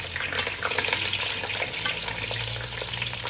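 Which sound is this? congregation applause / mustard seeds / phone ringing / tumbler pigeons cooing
mustard seeds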